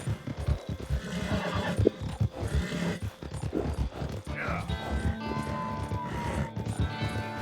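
Horse whinnying in the video game Red Dead Redemption 2, a short neigh heard amid hoof clip-clops and game noise, partly under someone talking.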